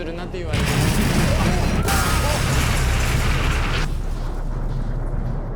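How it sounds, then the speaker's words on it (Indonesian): A freight train blown up while creeping slowly through a station in a film: one loud continuous rumbling blast roars on for several seconds and rolls over into debris and crackle, with no voices over it. "ia pun meledakkan sebuah kereta barang yang tengah bergerak pelan di sebuah stasiun"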